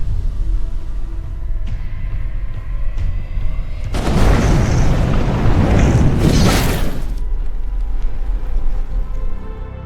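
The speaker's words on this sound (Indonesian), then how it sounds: "Ali bisa mencabut pengaman granat yang meledak di bawah kaki Boris." A grenade blast in an action film bursts out midway, a heavy roaring explosion lasting a few seconds before cutting off, over a low rumbling background.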